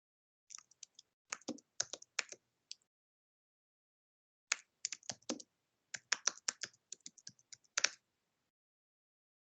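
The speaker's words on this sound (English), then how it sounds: "Yeah, typing at pace." Fast typing on a computer keyboard comes through as quick bursts of crisp, close clicks, broken by short pauses and a longer silent gap mid-way before the rapid tapping resumes.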